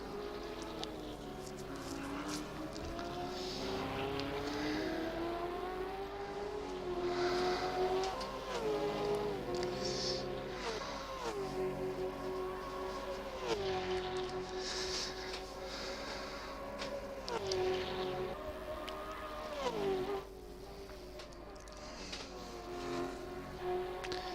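Gen3 Supercars racing around Bathurst, a steady loud engine drone with rising and falling pitch sweeps as cars pass and shift, continuous throughout.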